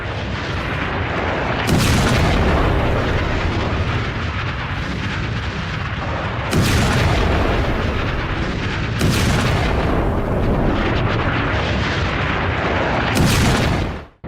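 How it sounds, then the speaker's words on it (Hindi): Missile and rocket strikes hit residential areas in Lebanon: loud, heavy blasts erupt in about four separate bursts, each followed by a sustained roaring rumble. "जब ये रिहायशी इलाकों में मिसाइलें गिरती हैं, रॉकेट गिरते हैं"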